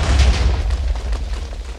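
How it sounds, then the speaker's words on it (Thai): A Minecraft explosion lands as a deep, rumbling boom, loud and close, that decays gradually over under two seconds with no voices. "ระเบิดครั้งยิ่งใหญ่"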